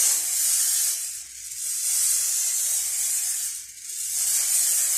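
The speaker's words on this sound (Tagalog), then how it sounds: "i-sprayan ko lang po yung kawali" Cooking oil sprayed onto a frying pan in a home kitchen: two long, close hissing bursts with a brief pause between them, followed by a third burst starting. No one speaks.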